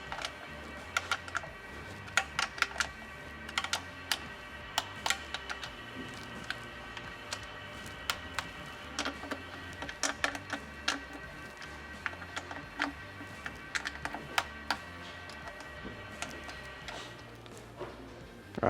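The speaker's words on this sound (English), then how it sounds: "we're going to torque up the pan bolts" A torque wrench tightens the transmission pan bolts on an AB60 gearbox from a Toyota Land Cruiser 200 Series or Tundra. Faint light ticks and clicks are scattered over steady workshop background noise, with no talking.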